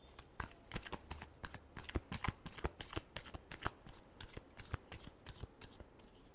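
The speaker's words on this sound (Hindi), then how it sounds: "Last shuffle." Tarot cards are shuffled close up, a rapid run of crisp riffling flutters and soft slaps in an irregular rhythm, quiet and alone with no talk.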